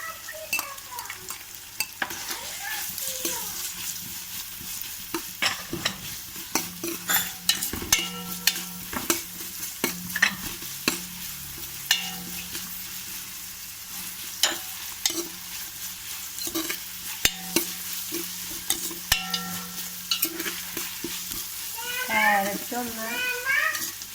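Chopped carrots frying for an easy chicken biryani, stirred with a busy run of sharp scrapes and knocks against the pan over a low sizzle, with a voice talking near the end.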